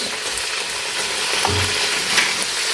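Shrimp frying in a pan for fried rice in a home kitchen, giving a loud, continuous sizzle with occasional stirring clinks and no talking.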